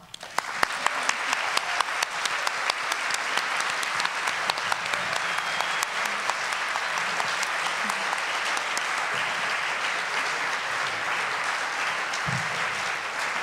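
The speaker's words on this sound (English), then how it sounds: "The audience may now applaud." An audience at a city council candidates forum in Chico applauds, with steady, sustained clapping that holds at an even level for more than ten seconds, close and full.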